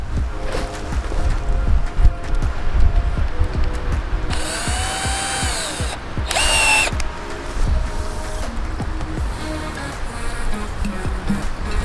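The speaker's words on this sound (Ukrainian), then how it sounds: "Робимо отвір у березі по діаметру трубки не глибше 2-3 см" A cordless drill bores a hole into a birch tree for sap, its whine rising in two bursts, a longer one and then a short second, loud and close over outdoor background noise.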